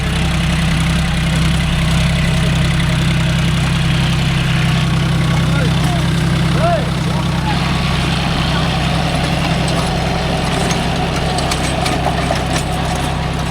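A John Deere 5105 40 hp tractor runs steadily with a 36-blade Gomathi rotavator in a farm field, its low engine drone loud and continuous throughout, with faint voices in the background.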